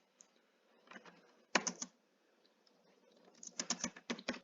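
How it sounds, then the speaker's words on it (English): Bursts of keystrokes on a computer keyboard, close and fairly faint, in irregular clusters with short pauses between runs of typing. "so I'm going to type and then I'll explain it"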